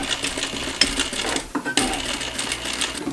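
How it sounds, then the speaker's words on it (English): A sewing machine stitches fabric strips end to end for a ruffle on a neckline, running in a steady whirring burst with a brief pause partway through, close and fairly loud, with no talking. "I'm sewing the strips together."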